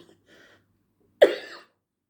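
A single harsh cough with throat clearing bursts out loud and close, lasting about half a second after near silence, with only faint murmurs before it.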